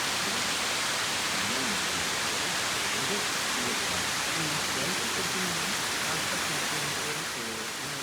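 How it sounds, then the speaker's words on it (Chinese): Several small waterfalls pour from the cliffs of a cloud forest straight onto the narrow North Yungas Road in Bolivia, a constant broadband rush of falling water that stays dense and steady throughout, with a voice faintly buried in the roar. "从山上有数个小瀑布，它们的水流直接倾泻在狭窄的路面上"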